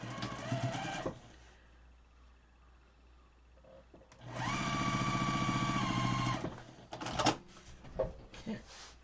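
Sewing machine running a quilt seam for a Farmer's Wife quilt block, a steady motor whir of about two seconds, with a shorter burst at the start and brief clunks and handling noises at the end.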